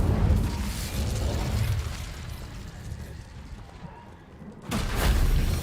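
An Incendio fire spell in Hogwarts Legacy lands as deep booming bursts with a rumbling, fiery roar. One blast comes at the start and a fresh loud whoosh arrives near the end.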